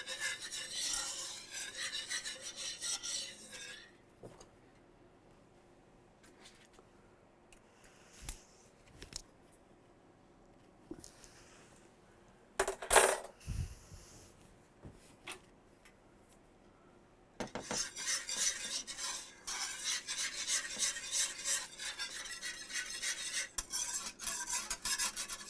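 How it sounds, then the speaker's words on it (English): A whisk scrapes rhythmically around a bowl of a seasoned Southern-cooking mixture, a close, quiet rasping that runs steadily at the start and again at the end, with softer clinks and shuffles in between. "We just keep whisking it around until it gets as"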